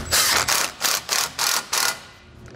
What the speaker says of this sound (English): I just want to come back with a 15 millimeter socket and snug down all of our hardware.